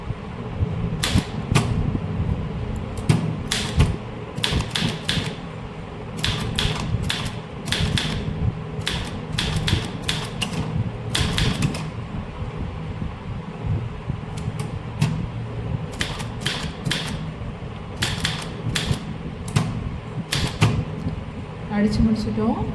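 Keys strike on a manual typewriter in quick bursts of sharp clacks with pauses between words and lines, close and clear, while a voice talks quietly in the background.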